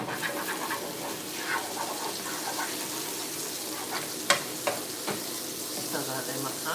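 Ginger sizzling in shallot oil in a frying pan during a quick stir fry, a steady close crackle with a few sharp clinks of a utensil stirring toward the end.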